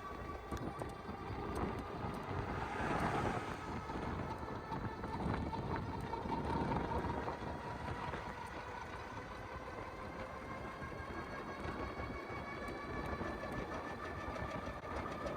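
A Hidoes B10 e-bike runs at full throttle on a flat road without pedaling, a steady motor whine mixed with rushing wind noise throughout.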